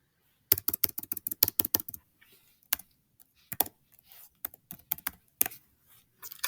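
Quick bursts of close key presses on a calculator keypad, a rapid run of taps followed by scattered single presses and short clusters, crisp and fairly quiet with no talking.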